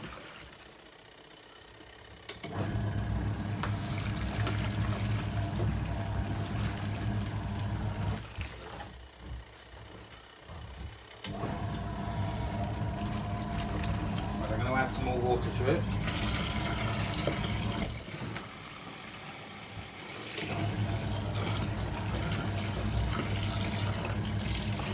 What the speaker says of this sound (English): It's very powerful, it's really swishing all the clothes around.